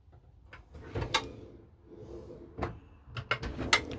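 Kitchen drawers in a Hymer Mercedes Tramp S585 motorhome sliding open and shut, several close clacks and thumps with short rattles between them, moderately loud with no talk.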